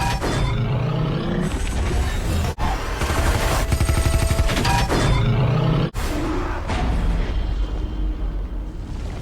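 Dense, loud film-scene gunfire mixed with booming explosions and rumbling impacts, continuous with two abrupt cuts in an action sequence.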